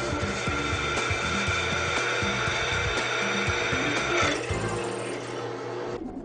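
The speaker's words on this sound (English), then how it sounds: "Now, it's time to drill." A power drill bores holes into a flywheel, giving a continuous whirring grind with uneven rattling, running loud and close before easing off near the end.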